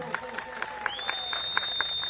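Scattered, rhythmic hand clapping from an audience at an outdoor political rally, applauding police officers. The claps come as separate sharp beats over a steady background hum and a high whistling tone.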